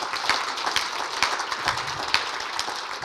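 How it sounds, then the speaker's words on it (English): An audience applauds musicians after a Sunday morning orchestral concert, with steady clapping and a few sharper individual claps standing out, moderately loud. "So I think this deserves a special applause."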